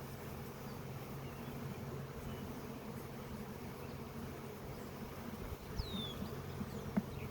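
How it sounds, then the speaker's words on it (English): Honeybees buzzing around a hive frame during queen grafting, a soft continuous hum with a few individual bees flying close past, no talking. "You get most of the bees off."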